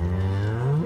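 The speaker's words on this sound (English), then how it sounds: "Along the way, a cow began to moo." A cow gives a single sustained low moo, loud and close, its pitch sliding slightly upward, heard alone without speech.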